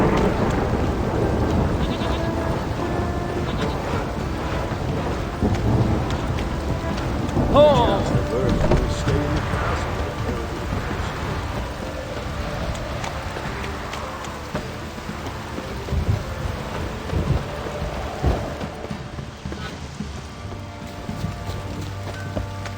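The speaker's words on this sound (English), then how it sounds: "Rain don't rust your blades." Steady rain pours in The Witcher 3: Wild Hunt, with low rumbles of thunder rolling beneath the constant hiss and a brief voice at times over the storm.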